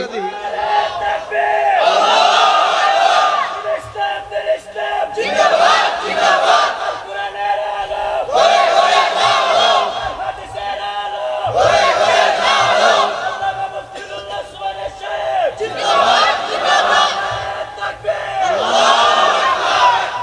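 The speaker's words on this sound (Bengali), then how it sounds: "তাকবীর দাও একটা দি।" A large crowd at a Bengali Islamic sermon gathering roars the takbir in unison, loud, repeated full-throated chants in regular waves with short gaps between, echoing through a public address system.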